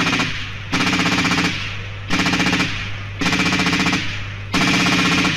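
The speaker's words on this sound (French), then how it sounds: "Ces 2 mitrailleuses sont jumelées et tirent alternativement" Two twin-mounted light machine guns on a Panhard AML armoured car fire in alternating bursts, each loud rattling volley lasting about a second and a half, with a steady mechanical drone between them.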